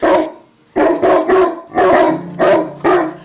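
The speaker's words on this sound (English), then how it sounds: "Next thing I know, my dogs are going crazy." Dogs bark excitedly in loud, close bursts, several rapid barks bunched together with short pauses between volleys.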